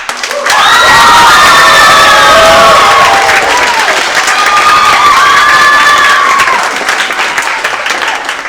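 A camp crowd of children and adults claps and cheers loudly at a welcome and all-camp song gathering, with high shouts and whoops ringing over sustained dense clapping that tapers toward the end.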